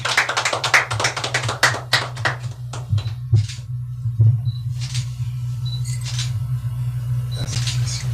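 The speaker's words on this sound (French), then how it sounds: "On applaudit Davidson." Scattered handclaps from a small group at a staff award ceremony for a radio and TV station, dense at first, then thinning to a few isolated claps over a steady low hum.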